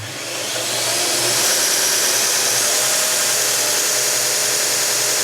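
A TW-90 belt grinder fitted with an old, worn 60 grit belt spins up from rest to a loud, steady, broadband whir with a high hiss, running close and alone without speech.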